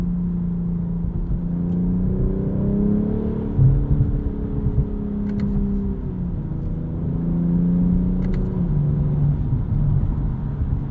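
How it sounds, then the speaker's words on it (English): A 2022 BMW M440i xDrive Gran Coupe with an 8-speed ZF automatic, heard from inside, its engine droning and shifting pitch as it drives, with faint exhaust crackles and burbles in the steady cabin rumble. "Some subtle pops and burbles from the exhaust there."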